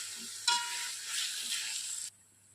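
Vegetables for a veg biryani cook in a pan with a bright, steady hiss that starts abruptly, holds for about a second and a half, then cuts off, with a light scrape of stirring, close by.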